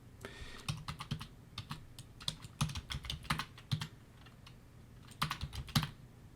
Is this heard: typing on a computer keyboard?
yes